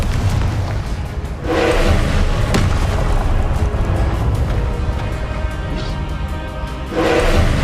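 Booming blasts from the Confringo explosion spell in a wizarding video game, a loud sustained low roar with several heavier surges, including one near the start and another near the end.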